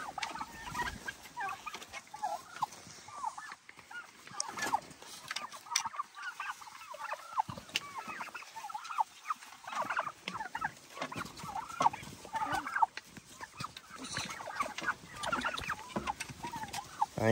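Turkeys herded toward their roost in a chicken tractor at evening, keeping up a long, continuous chorus of gobbles and clucks, loud and near, with short lulls and rustling between bursts.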